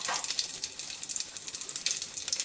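Curry leaves crackle and sizzle in hot oil alongside cumin and mustard seeds while tomato charu is cooked, giving a steady, bright, spattering hiss throughout with no talking.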